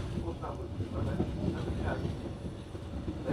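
A GoVolta passenger train runs with a new locomotive near Bad Bentheim, heard from inside the carriage as a steady low rumble and rolling noise, with faint voices in the background.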